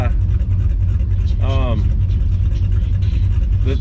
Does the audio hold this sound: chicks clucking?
no